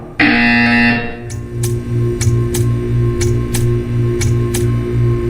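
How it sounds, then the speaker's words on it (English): A buzzer sounds in the video game Portal 2: a loud, harsh tone lasting about a second, followed by a steady mechanical hum with a regular series of ticking clicks. "You will hear a buzzer"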